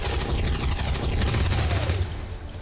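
A soldier fires in XCOM 2 Long War of the Chosen, a loud, close rattle of rapid gunfire that rolls on for a couple of seconds before tapering off.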